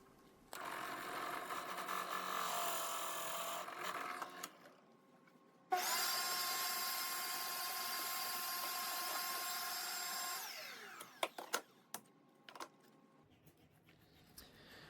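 A power drill boring holes into reclaimed scrap wood with a new set of higher-quality bits: two long, steady whirring runs, then a few brief stop-start bursts.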